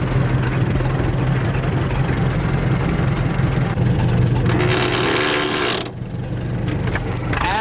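A vintage Fordson farm tractor's engine runs steadily with a low, throbbing drone, loud and close, with a brief surge of rougher mechanical noise near the end before it settles back.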